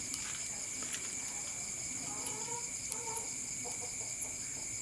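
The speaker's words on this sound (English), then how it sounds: "And some chickens." Chickens cluck softly in short scattered bursts at a farmyard in the evening, set against a constant bed of crickets and insects, somewhat distant and quiet.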